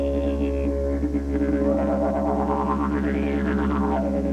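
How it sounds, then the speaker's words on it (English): A didgeridoo droning with a deep, steady fundamental and shifting overtone swells, played continuously up close with no break. "Hard to imagine a computer replacing this instrument called a didgeridoo."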